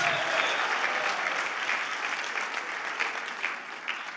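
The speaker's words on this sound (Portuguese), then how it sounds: "Dê um aplauso a Jesus." Congregation at a pastors' gathering applauding steadily, a broad dense clatter of many hands sustained at even strength throughout, fading only slightly toward the end.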